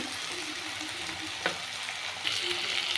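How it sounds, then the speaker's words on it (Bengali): Garlic, chopped chilli and tomato fry and are stirred in a pan, giving a steady soft sizzle with a spatula click partway through and a brighter burst of frying near the end. "রসুন দিয়ে দিয়েছি ভালো করে নাড়াচাড়া করব টমেটো দিয়ে দিয়েছি"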